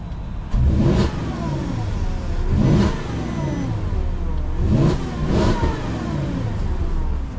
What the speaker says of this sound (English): Sounds like an Audi V8.